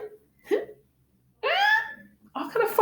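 A voice imitates hiccups with several short, abrupt vocal bursts separated by pauses, close and fairly loud.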